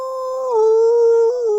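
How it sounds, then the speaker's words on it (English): A loud, sustained tonal howl from a Wolfman at a baseball game, one long rising-and-falling wail held close with a brief dip near the end and no talk. "The Wolfman points above the scoreboard at the full moon and howls."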